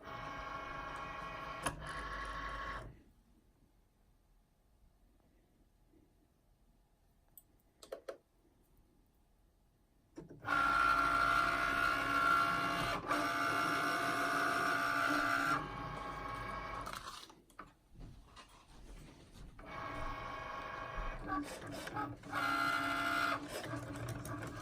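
A Cricut cutting machine works through iron-on vinyl in bursts of whirring, ticking carriage motion, broken by a long quiet pause and several short stops, heard close and fairly loud.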